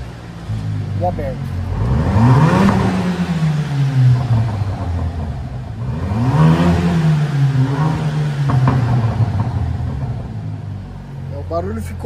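A Ram Rampage RT pickup with its exhaust valve open and a fitted muffler, revving twice in strong, swooping surges over a deep idle rumble, with some talking nearby.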